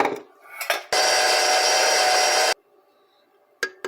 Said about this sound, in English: So we're adding now the eggs, and then we will beat that one.